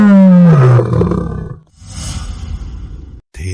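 A lion's roar booms back from inside a well: one loud, close roar slides downward, then a hollow, reverberant echo trails after it before a sudden stop.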